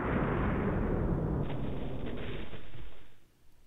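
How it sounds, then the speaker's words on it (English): A loud, booming gunshot-like blast from a low-poly video game, sustained and heavy for about three seconds before cutting off abruptly, with no talking. "That sounds like a really loud, really loud gunshot."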